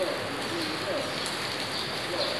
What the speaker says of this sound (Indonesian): Lanjut biar hujan.